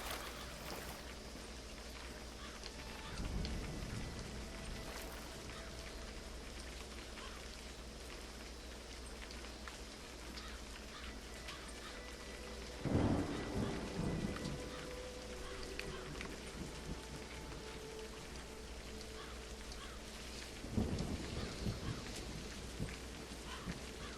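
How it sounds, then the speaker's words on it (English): Steady rain and rumbling thunder in the Scottish Highlands setting of the video game A Highland Song, a constant hiss of rainfall with heavy low thunder rolls near 3, 13 and 21 seconds, at moderate distance and without talk. "Uh oh, it's raining."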